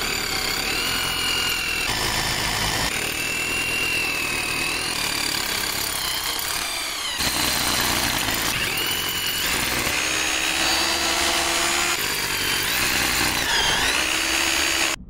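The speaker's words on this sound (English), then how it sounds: "the SDS plus is working pretty well" An SDS plus rotary hammer drills into limestone ground for a solar panel ground mount, hammering with a continuous loud, gritty rattle and a whining motor that shifts pitch several times, close by and without pause, with no talking.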